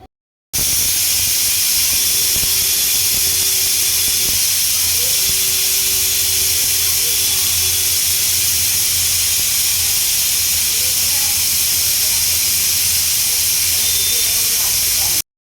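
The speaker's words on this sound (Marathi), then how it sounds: "त्याच्या छान कुकरमध्ये 3 शिट्ट्या घ्यायच्यात" A loud, continuous hiss of steam rushes out without a break as a pressure cooker whistles while cooking jackfruit, with a faint low hum underneath.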